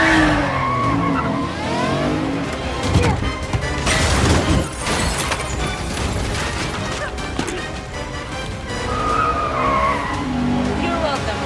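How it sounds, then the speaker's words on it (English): Car chase action from the Black Widow movie, with tires skidding and squealing, engines roaring and a crash-like impact, all loud and continuous under bursts of dialogue and score. "So that was a little car chase action there from the upcoming Black Widow movie."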